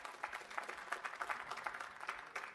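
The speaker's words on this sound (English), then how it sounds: "I'm not sure if you're clapping because I'm finished or you're clapping because you like what you heard" Audience at a conference breakout session applauds faintly, a patter of many hands clapping steadily throughout from some distance.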